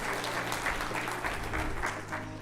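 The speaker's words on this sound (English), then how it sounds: "Let's just give him a big round of applause as he takes his seat one more time" At a colloquium, the audience gives a speaker a warm round of applause as he returns to his seat. The clapping is steady and moderately loud in a large hall.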